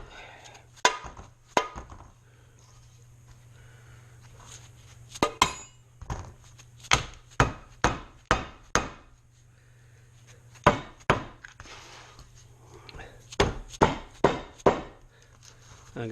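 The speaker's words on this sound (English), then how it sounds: "We'll use my little rubber hammer." Sharp knocks of a small rubber hammer tapping a Jaguar MKII intake manifold, single hits and quick clusters separated by pauses, over a steady low hum.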